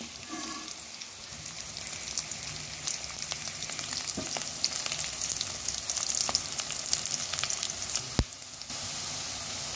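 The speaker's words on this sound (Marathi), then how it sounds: "आता आपल्याला लालसर होईस तोपर्यंत कांदा भाजून घ्यायचा आहे" Onion frying in a pan until reddish, giving off a steady, close sizzle with occasional pops and a sharp scrape of a spatula near the end.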